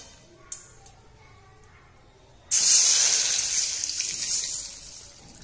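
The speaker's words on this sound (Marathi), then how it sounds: "आता ह्याच्यामध्ये आपण पाणी ओतणार आहोत" Water poured into a hot kadai of melted Dalda on a medium gas flame erupts in a sudden loud hiss and sizzle that stays strong, then slowly eases, after a couple of small clinks.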